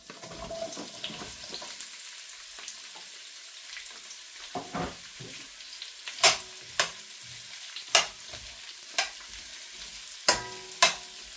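Onions fry in a pan with a soft continuous sizzle, punctuated by several sharp scraping clacks of a utensil stirring against the pan, close by and with no speech.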